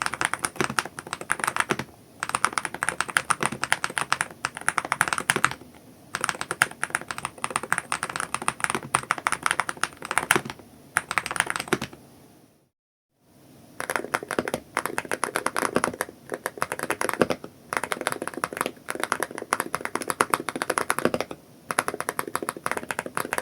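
Continuous fast typing on a Hall-effect mechanical keyboard fitted with Ocean Whisper magnetic switches, with low-pitched bottom-out clacks. Keystrokes run densely, with a few short pauses and one clear full stop midway, close and alone.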